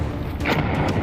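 Grenade blast in the video game Escape from Tarkov, a dull booming burst that fills the short moment at steady loudness, with no talking over it.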